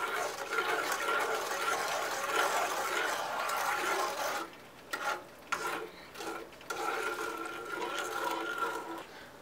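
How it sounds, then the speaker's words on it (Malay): Palm sugar and water stirred in a pot for durian pengat, a steady wet swishing and scraping that continues with a few brief pauses. "Kemudian kita kacau."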